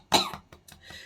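A cough from an adult with a dry cough: one sharp, loud burst followed by a few weaker hacking coughs, close and alone without talk.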